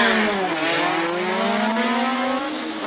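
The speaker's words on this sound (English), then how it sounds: "It's a Mark 79A. 4-cylinder, 2-liter in capacity all the way from 1979." A 1979 Mark 79A race car with a 2-liter four-cylinder engine on slick tires screams past at speed during a classic car speed event, its engine note loud and close, pitch sliding down as it passes.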